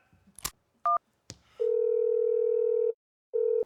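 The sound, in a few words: telephone dial tone when placing a call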